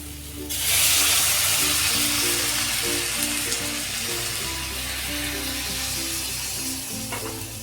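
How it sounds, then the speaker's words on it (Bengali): Hot water poured into a pan of sautéed vegetables for a Bengali bori curry sets off a loud, sudden hiss that settles into a steady sizzle and bubbling, close and continuous with no talk. "এবার এর মধ্যে আমি দিয়ে দেব গরম জল"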